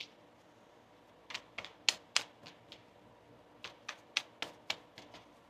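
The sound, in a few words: tarot cards being shuffled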